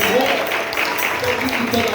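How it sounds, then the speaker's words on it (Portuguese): A church congregation claps during a worship service, a dense, continuous wash of applause filling the room, mixed with voices speaking and calling out throughout. "As palmas de glória ao Senhor."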